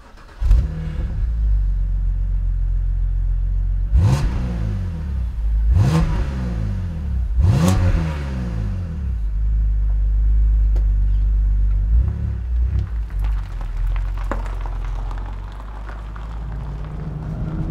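A BMW 125i Cabriolet engine pulls steadily from inside the car, with three strong rising revs as it accelerates through the gears, then settles into a continuous low rumble while cruising.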